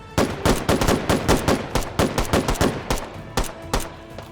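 Rapid gunfire in the VR shooter game H3VR, a fast rhythmic series of sharp close bursts repeating steadily for several seconds.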